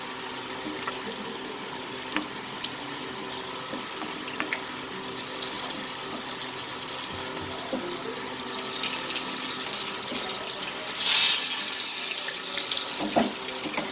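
A kitchen tap runs steadily while pieces of fish are washed under it for a Godavari fish curry: a soft, continuous rush of water with faint splashes and occasional clinks.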